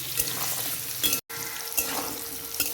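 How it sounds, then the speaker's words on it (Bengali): Spiny gourd (kakrol) pieces fry in a pan with a close, continuous sizzle and crackle. A brief silent gap falls in the middle before the frying resumes. "কত সুন্দর লাল লাল করে কালকোলটা আমি ভেজে নিচ্ছি"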